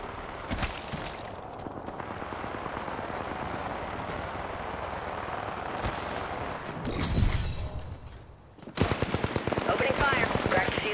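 Gunfire in the Apex Legends video game, sustained rapid automatic bursts under a steady background, with sharper loud volleys late on and voices talking over it.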